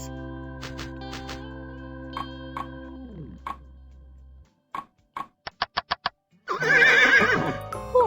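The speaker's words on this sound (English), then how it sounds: "Horse." A horse neighs loudly in a rising, quavering whinny lasting about two seconds, set within a children's animal-sounds sequence that also contains tonal chimes and sharp clicks before it.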